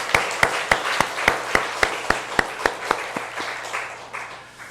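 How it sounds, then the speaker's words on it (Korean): A church congregation at a Korean Sunday worship service claps together in a steady, even rhythm of about a dozen sharp beats, fairly close, before the clapping thins out and fades. "우리 감사의 박수로 영광을 올리겠습니다"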